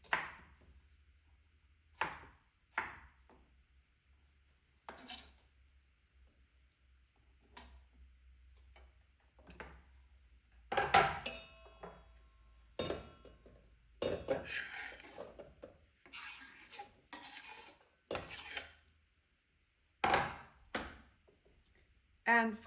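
Root vegetables are chopped on a board in a home kitchen while preparing a winter lamb shank dish, giving sharp, close, irregular knife thuds spaced across the stretch with quiet pauses between them.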